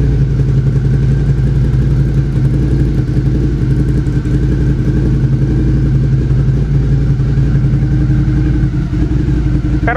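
A Suzuki SV650 motorcycle fitted with a MIVV exhaust runs up close with a loud, deep, steady engine rumble that holds constant for the whole stretch.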